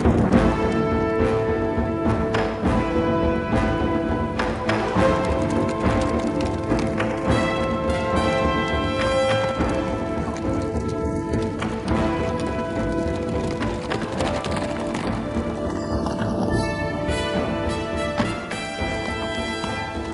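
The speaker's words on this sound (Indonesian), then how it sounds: "ayo kita balapan kuda" Horses gallop in a race, with rapid hoofbeats running continuously through a loud, dense wash of sound for about twenty seconds.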